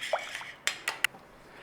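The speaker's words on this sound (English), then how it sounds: "Nice and steady, just give it a stir." A spoon stirs tuna mornay sauce in a pot, making a brief, quiet scrape followed by three light clinks against the metal, close by.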